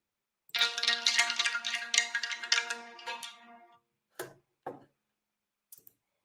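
Stone clacking samples layered together for a synth patch: a dense run of rattling, ringing hits over about three seconds, then two separate knocks and a faint final tick, alone and close.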